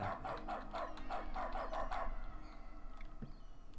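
Barking from a dog character in The Stanley Parable's dog mode: a run of about eight quick, evenly spaced barks over a steady low hum, then a fainter bark or two near the end.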